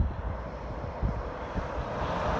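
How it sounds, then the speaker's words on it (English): A fixed-wing airplane passes overhead outdoors after recent storms, a broad steady roar with wind buffeting, loud and continuous throughout, no voices. "Oh, bye-bye plane. I hope you took off."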